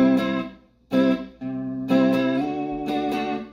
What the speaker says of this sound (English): the first pedal I'm going to use is a tremolo pedal with a high rate and a mid to low depth, and that sounds like this.